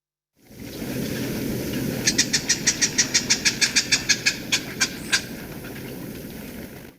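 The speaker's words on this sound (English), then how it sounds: "including this marsh wren, which actually kind of sounds a little similar to kinglet, that kind of chattering" A marsh wren's song: a quick, dry rattling chatter of about eighteen evenly spaced notes over a steady low background rumble.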